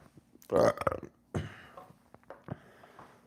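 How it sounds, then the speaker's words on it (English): A man lets out a loud, rough, guttural burp up close, followed by a couple of smaller belches and some soft mouth noises in a quiet room. "That burp was rough."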